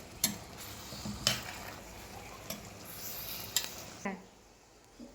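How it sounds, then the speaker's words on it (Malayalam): Fish peera, a Kerala-style fish dish, is stirred gently in a pan: a spoon scrapes and taps the pan at irregular intervals over a soft steady sizzle, close and clear with no talk. "അപ്പം നമുക്കൊന്ന് ഇളക്കി കൊടുക്കാം. പതുക്കെ വേണം കേട്ടോ ഇളക്കേണ്ടത്."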